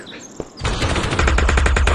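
Rapid automatic gunfire in the VR shooter Aim XR, a loud, dense burst of shots that starts abruptly after a quiet moment and keeps rattling on steadily.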